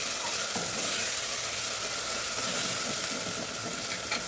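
Biryani ingredients sauté in a pot, a dense steady sizzle close up with soft bubbling and stirring textures throughout.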